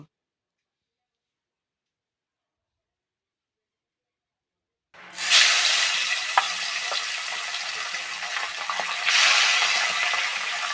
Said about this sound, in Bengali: বাকি মাছগুলোও আমি ঠিক এইভাবে ভাজা করে তুলে নেব।